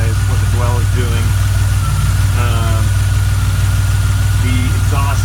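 A DeLorean engine with a lumpy running fault idles loud and close, with a steady low throb and vibration while someone talks over it.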